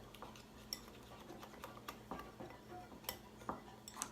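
A utensil stirs melted coconut oil and chocolate in a pot, giving soft, close scrapes and light clinks against the metal in an uneven rhythm, with no talking.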